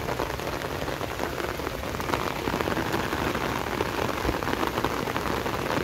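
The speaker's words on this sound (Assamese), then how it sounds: "তো বৰষুণ দি আছে" Steady, dense rain falls outdoors in Assam, a continuous close hiss of drops striking leaves and surfaces for the whole stretch, with no voices.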